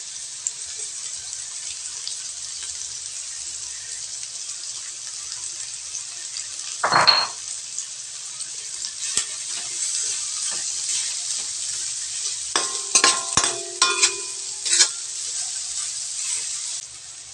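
Garlic fries in a pan as part of tilapia with black beans, giving a steady hiss of sizzling oil, with a brief louder burst, a few utensil clinks and scrapes, and no talk.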